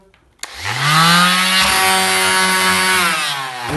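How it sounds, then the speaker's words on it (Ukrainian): A Parkside XQ2SE random orbital sander switches on with a sharp click and spins up into a loud, steady, close-up whine that holds at full speed. "Суперова ексцентрикова шліфмашинка"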